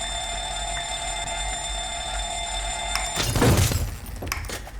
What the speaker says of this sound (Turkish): Gördüğünüz gibi biraz alarm